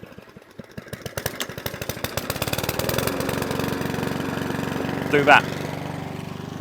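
A Mountfield 414 lawnmower with a hunting, surging petrol engine starts with rapid chugging pulses that build into a steady running drone, heard up close, with a brief spoken remark near the end.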